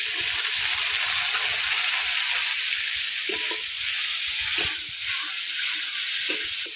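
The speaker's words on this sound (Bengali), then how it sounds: "লঙ্কা আর আদা বাটা দিয়ে একটু কষায় নিতে সুন্দর করে" Chili and ginger paste sizzles in hot oil in a pan, a steady close hiss with occasional soft stirring clicks and no talking.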